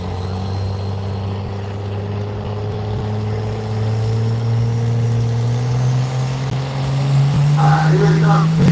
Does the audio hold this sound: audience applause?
no